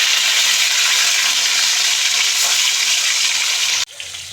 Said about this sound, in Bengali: মাছগুলো ছেড়ে দেবো।